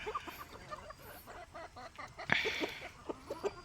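Free-range village chickens and roosters on a Konkan farm near Ratnagiri cluck in a steady series of short calls, fairly close, with one louder squawk partway through.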